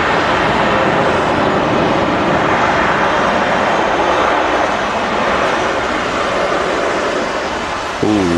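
A SunExpress airliner departing Manchester produces a loud, broad, continuous engine roar that holds steady throughout, with a brief knock right at the end and no speech.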